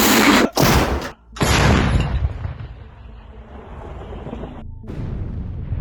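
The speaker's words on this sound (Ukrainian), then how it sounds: "Гармата!" Two loud, close artillery cannon blasts in quick succession on a front line, followed by a long rumbling echo that fades, then another deep boom near the end.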